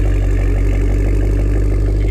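Deep, steady Cadillac Escalade V engine idle, a loud low rumble with a slight rhythmic throb, close by and uninterrupted.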